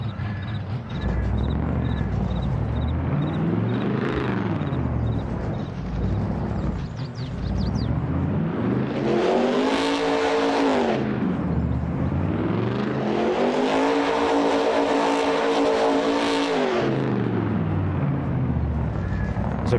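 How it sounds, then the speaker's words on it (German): A monster truck engine in Farming Simulator 22 revs up in long rising and falling surges, loud and close, with two main throttle swells after an initial idle and quick blips. "Dann gehen wir mal ein bisschen aufs Gas."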